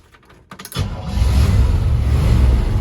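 A 1955 Chevrolet Bel Air engine cranks briefly, then catches and settles into a loud, steady, rumbling idle close by, with no one talking.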